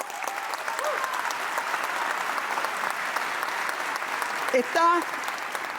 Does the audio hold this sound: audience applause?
yes